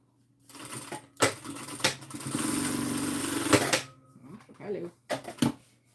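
A sewing machine stitches fabric in a short rattling run, preceded and followed by a few quick start-stop bursts of mechanical clatter, with a voice talking quietly nearby.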